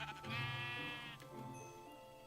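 A Minecraft sheep bleats in a long, nasal, wavering cry that lasts about a second, followed by a quieter second bleat, heard fairly faint in the game with no speech, ending in a brief sharp click.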